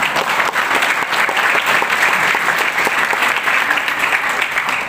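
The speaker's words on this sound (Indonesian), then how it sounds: "Tepuk tangan." Audience at a religious alumni gathering and Halal bi Halal event clapping loudly and steadily, a dense, even burst of applause that fills the whole stretch.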